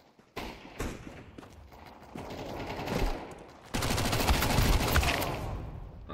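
Dense automatic gunfire and rapid shots in a Counter-Strike 2 deathmatch on the Dust II map, loud and close, with bursts building into a sustained heavy fusillade.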